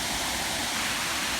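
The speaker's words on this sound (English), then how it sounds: "We're here at the Brandywine Falls." Brandywine Falls waterfall roars in a dense, steady rush of falling water, loud and continuous.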